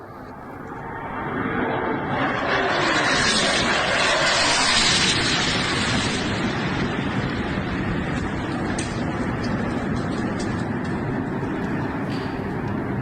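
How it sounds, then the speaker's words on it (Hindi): Loud, sustained roar of Sukhoi military jets passing over Ukrainian cities, swelling in the first seconds and staying steady and broadband throughout. "ये सुखोई विमानों की गर्जना आप सुन रहे हैं जो यूक्रेन में अलग अलग शहरों के आसमान पर गूंज रहे हैं"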